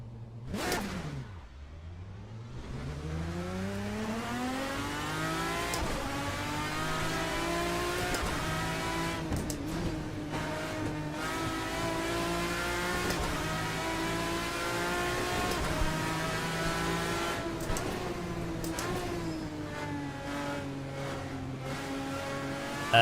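A Race Sim Studio payware mod car in Assetto Corsa revs hard and loud, engine pitch sweeping down then climbing repeatedly through gear changes across twenty seconds, with brief tire squeals and no talk.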